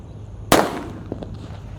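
A single sharp, loud bang from a mercon bledek firecracker set off for Eid al-Adha, followed by a short decaying rumble and a few faint crackles, with no talking.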